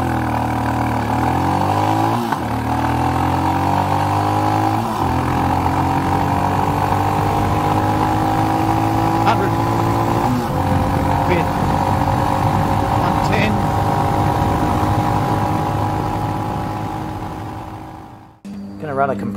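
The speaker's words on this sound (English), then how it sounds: "Run a compression test." Royal Enfield Himalayan with a 500cc big-bore engine being cranked and run during a compression test, a loud, close, steady engine drone with shifting harmonics for most of the clip before it cuts off abruptly near the end.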